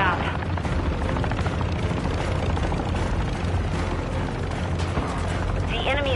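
A cargo helicopter in a video game gives a loud, continuous rotor thump and engine roar that fills the whole stretch, with battle noise mixed in.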